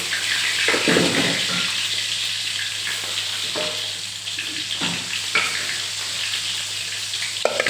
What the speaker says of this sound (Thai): เราก็จะมาอุ่นแกงขี้เหล็กนะคะ